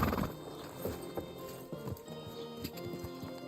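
Horse in the video game Kingdom Come: Deliverance II, its hooves clip-clopping in an uneven rhythm over game ambience, with a soft whinny-like sound early on and no talk.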